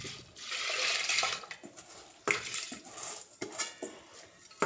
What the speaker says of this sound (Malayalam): അപ്പം നമ്മൾ ഇതിലേക്ക് കുക്കറിലേക്ക് അരി ഇടുവാണ്.